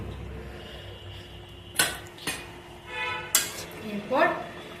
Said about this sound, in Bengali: একটু ভালোভাবে কষিয়ে নে